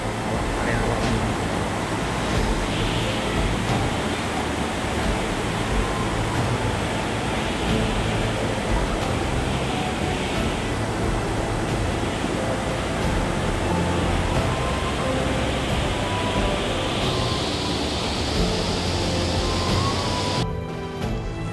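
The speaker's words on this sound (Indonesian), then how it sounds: "Di depan sana kita lihat itu ada air terjun, walaupun tidak tinggi." Continuous roaring water from a low waterfall at Guci, Tegal, rushes at a steady level throughout, a thick broadband wash with a faint shifting hiss on top, ending abruptly.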